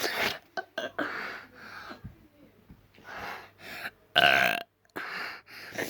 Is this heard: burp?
yes